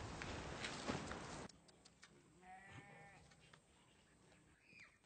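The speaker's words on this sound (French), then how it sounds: "sont vraiment nets tes moutons." Sheep on a farm bleat a few times, moderately close but fairly faint, after a burst of broadband noise at the start, with occasional footsteps or ticking sounds in the background.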